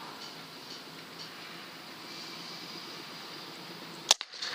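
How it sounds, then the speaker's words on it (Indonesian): One sharp, sudden crack of a PCP air rifle shot (OD 38, 350cc, 4500 psi pressure) near the end, after a quiet outdoor hum. "Oke ya, satu kali tembakan."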